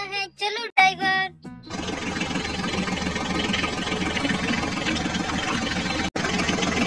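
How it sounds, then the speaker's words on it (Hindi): A toy mini tractor's engine runs with a steady, loud idling rumble after a brief burst of voice at the start, broken once by a short dropout near the end. "चलो चलो बच्चों, अब हम अपने मिनी ट्रैक्टर को आगे लेकर चलते हैं"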